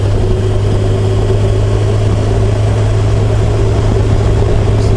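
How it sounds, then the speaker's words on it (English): A motorcycle engine turns steadily at about 2,500 RPM while cruising on a back highway, a loud, constant low drone with a firm hum and no talking over it. "the engine feels like it's pulling fine"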